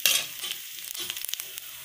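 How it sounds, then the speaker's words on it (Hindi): Tomato chutney ingredients frying in a pan until brown, a close, steady sizzle with light stirring scrapes over it; short and continuous, with no voices. "ये देखिए ये भी मैं फ्राई कर लेती हूँ इसको भी पूरा ब्राउन होने तक"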